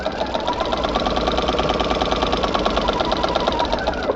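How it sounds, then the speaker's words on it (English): A sewing machine with a walking foot quilts a layered quilt in a loud, close, steady rapid mechanical whir with evenly repeating stitch beats and no pauses. "I will sew along the outer margin until I get right where I need to be"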